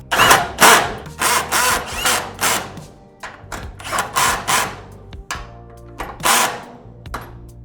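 Repeated bursts from a power drill tightening bolts on a garage door, running in short pulses, each whir rising and cutting off, close by with brief pauses between runs.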